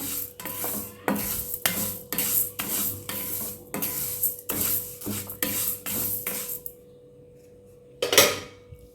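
Moong dal dry-roasts in a pan until golden, a rhythmic series of close, gritty scraping strokes as the lentils are stirred, pausing briefly before one last scrape.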